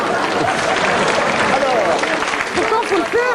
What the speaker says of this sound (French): On applaudit Léon Zitrone.